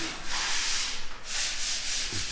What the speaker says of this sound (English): busy sanding away all the skim coat that they put on yesterday